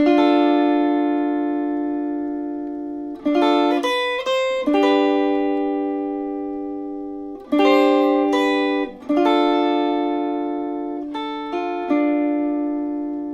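Clean guitar notes plucked one at a time, each ringing out and slowly fading before the next, with a few quick note clusters between longer sustains.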